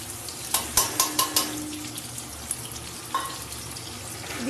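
Chopped potatoes, capsicum and green chilli sizzle steadily in a pan as a spoon stirs them, with a cluster of sharp scraping clinks early on and a lone clink later over the constant hiss.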